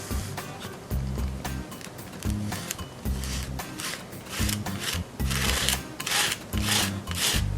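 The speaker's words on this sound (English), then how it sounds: "And you just basically squeegee it through." A plastic squeegee tool drags Midnight Sky chalk paint across a surface in repeated scraping, rasping strokes, rhythmic and close, with short pauses between passes.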